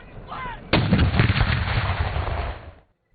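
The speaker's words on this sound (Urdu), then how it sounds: "دن کا آغاز وفاقی دارالحکومت میں 31 اور صوبائی دارالحکومتوں میں 21 توپوں کی سلامی سے ہوا" A cannon of an artillery gun salute fires at dawn on Pakistan Day, one loud close boom that rolls and echoes for about two seconds before fading to silence.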